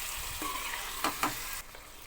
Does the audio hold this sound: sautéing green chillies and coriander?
yes